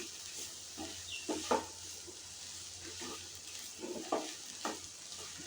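Spice masala with dry red chilli powder being stirred in a frying pan for a chichinga (snake gourd) dish, with a steady sizzle and repeated scraping strokes of a spoon across the pan.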